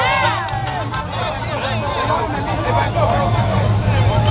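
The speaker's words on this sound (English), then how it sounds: "Hey, crowd going crazy," A crowd at the Caballos Y Trokas 2022 truck event cheers and chatters loudly and continuously, with shouts and whistles rising over a steady hubbub and a low engine-like drone underneath.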